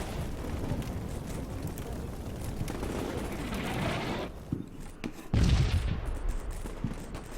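Gunfire in the modern combat video game Combat Mission Shock Force 2: rolling bursts of shots and crackling fire throughout, with a heavier boom near the end, fairly faint and distant.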